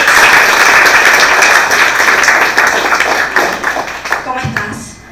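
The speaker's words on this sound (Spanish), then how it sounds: "Fuerte el aplauso para Manasés." Audience applause for a contestant at a regional final competition in Guna Yala, a dense, loud wash of clapping that holds steady before thinning out and fading near the end.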